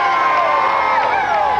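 Dense parade crowd at the 1994 New York Rangers Stanley Cup championship celebration, loud continuous cheering, whooping and shouting from many voices close by, steady throughout.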